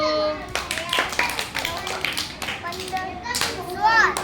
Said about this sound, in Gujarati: તાળી પાડો તાળી પાડો